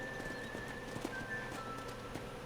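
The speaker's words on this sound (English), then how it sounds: "let's see if you can still ride a horse" A horse is ridden in the Red Dead Redemption video game, with quiet, regular clip-clop of hooves and a faint high whistle-like tone in the background.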